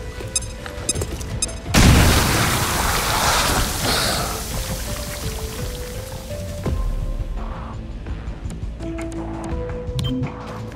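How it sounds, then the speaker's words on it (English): A grenade goes off in the video game XCOM: Chimera Squad with a loud, sudden boom. The blast fades into a long rumbling tail, with game music and lighter effects running underneath. "Grenade out."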